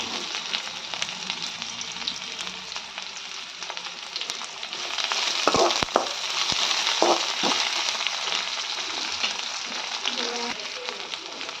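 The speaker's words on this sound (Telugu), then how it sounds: "అవి రెండు వేగిన తర్వాత ఆనియన్స్ వేసేసుకుంటున్నా" Urad dal, chana dal and onions frying in a pan for a bhindi fry, producing a steady crackling sizzle with a few sharp stirring knocks in the middle.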